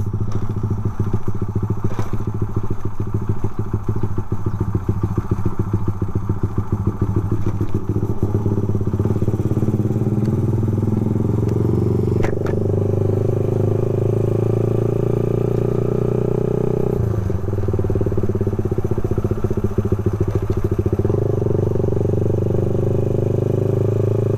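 A Honda Sonic 125 motorcycle is ridden through a village, its engine note rumbling steadily up close with gear changes and rising and falling revs, alongside wind buffeting and a few knocks and clatters.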